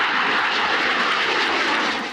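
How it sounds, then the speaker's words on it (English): An airplane passes overhead with a steady, loud engine roar and broad rushing noise that holds for about two seconds and begins to fade at the end, with no other sounds. "We've all seen planes, helicopters, and jets."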